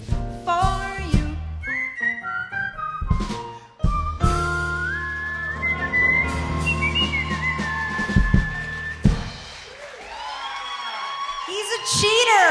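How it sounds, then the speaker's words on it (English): A person whistles a short, bright melodic tune at a cocktail-hour jazz set with a quintet, the whistled phrases wavering in pitch amid live room sound, light voices and a whoop near the end. "I'd whistle a little tune for you."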